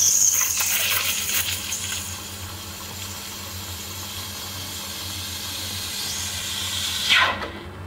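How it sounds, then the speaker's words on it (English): A steam wand on a Gemilai 3200 series espresso machine steams milk in a café, giving a steady close hiss with faint gurgling and rattling throughout, then a brief sharper squeal near the end. "And now let's steam our milk."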